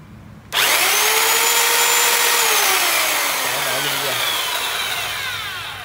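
A 1300W electric chainsaw starts abruptly and runs at a steady high-pitched whine, loud and close, slowly tapering slightly over several seconds.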